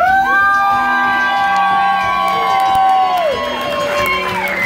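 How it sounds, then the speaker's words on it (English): A Pardi Gras crowd cheers and applauds for the king and queen, with sustained whoops and shouts over a loud bed of music with held tones, energetic and continuous. "Big round of applause for our king and queen."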